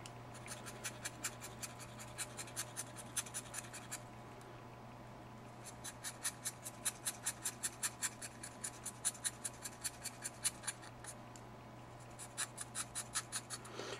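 A pencil lead is rubbed back and forth on paper to sharpen its point, giving quick rhythmic dry scratching strokes. The strokes run in steady bursts with a brief pause near the middle, fairly quiet and close, with no voices.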